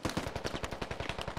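Rapid automatic gunfire in the military shooter game Squad, a fast rhythmic burst of closely spaced loud shots with no voices over it.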